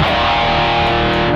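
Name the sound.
guitar through Rocktron Metal Planet distortion pedal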